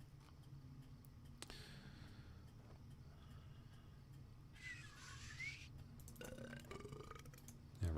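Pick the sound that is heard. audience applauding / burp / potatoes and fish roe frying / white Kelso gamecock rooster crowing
burp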